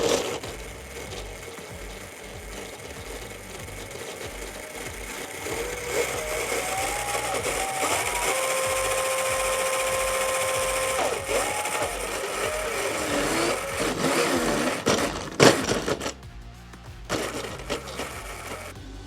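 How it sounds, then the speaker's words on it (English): An electric motor mounted on a welded bracket for a homemade electric crazy cart whirs and whines as it spins up, holding a steady rising tone, then rattling and clunking before cutting out near the end. "hook up the motor, get this spinning, make sure that that's going to stay on there properly"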